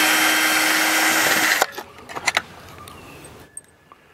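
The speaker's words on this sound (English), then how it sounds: "I'm going to come in here real quick and remove the two screws." A cordless drill whirs steadily for over a second backing out screws from an exterior USB/120VAC outlet cover on an RV, then stops, followed by a few light clicks and metallic taps of the screws and tool.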